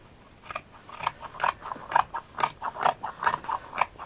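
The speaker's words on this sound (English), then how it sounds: "I'm going to trim this off" Scissors snip away excess material while trimming a craft shadow box, making about ten crisp, evenly spaced cuts close by with no talking.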